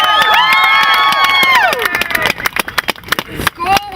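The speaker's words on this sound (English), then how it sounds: "I think you should all give yourself a huge round of applause for coming out in the rain" A crowd at an outdoor equal-rights rally in the rain shouts and cheers loudly, then breaks into ragged applause with sharp, scattered claps.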